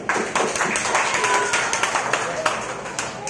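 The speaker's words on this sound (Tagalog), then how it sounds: "Sa lahat po ng mga nanay, pumalakpak!" A church congregation claps during a prayer service, dense overlapping handclaps forming steady applause, loud and close, with a voice speaking over it.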